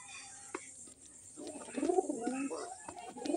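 Raj Golla pigeons, a bright red breeding pair, give soft, low, rolling coos from mid-clip onward, fairly close, over a quiet background after a couple of faint knocks.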